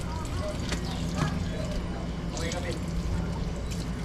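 Strong running water pours steadily at a beach, a continuous rushing flow with splashing close by while people talk over it.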